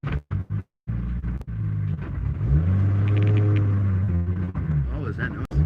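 A freshly built 2JZ engine in a car rumbles low and steady, rising in a long drone as it revs up, then settling back, with a few brief words spoken before it.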